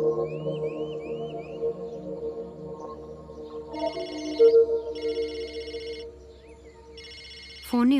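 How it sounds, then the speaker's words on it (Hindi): Telephone ringing indoors, heard as repeated electronic ring bursts at moderate level over a low steady background hum, with a short sharper sound right at the end. "फोन नहीं उठाओगे?"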